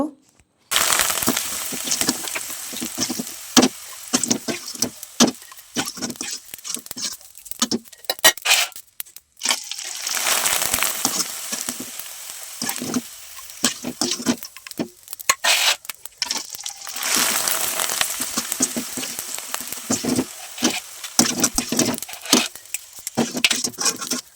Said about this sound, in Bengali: তেলটাকে আমি খুব ভালো করে গরম করে নিয়েছি এখন পিঠাগুলো দিব দিয়ে শুধু উঠিয়ে নেব